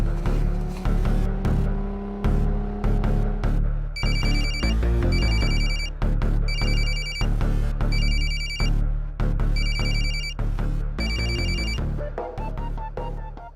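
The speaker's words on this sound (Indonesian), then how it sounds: "Bentar, gue telepon Nami dulu." A telephone ringtone rings over and over as an outgoing call waits to connect, its repeating electronic rings loud and regular, with a steady backing tune under them.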